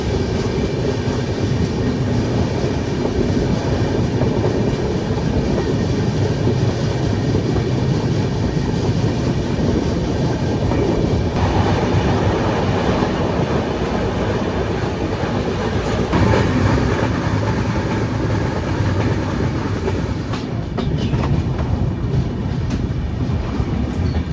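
Grand Trunk Express passenger train running on the rails between Nagpur and New Delhi, a steady loud rumble with rhythmic clickety-clack of the wheels continuing throughout, shifting slightly in tone partway through.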